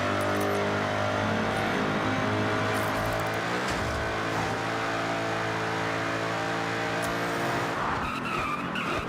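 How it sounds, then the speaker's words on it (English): Raw-sounding V8 engine in a car in the Forza Horizon 6 racing game, revving hard and loud with strong harmonics, shifting pitch mid-clip, along with tire skidding and squeal, alone without talk. "Sounds like a V8, a raw V8."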